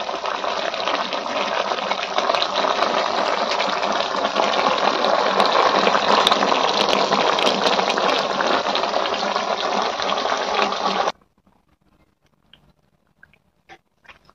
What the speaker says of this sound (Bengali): মাংসটা এখন ফুটছে।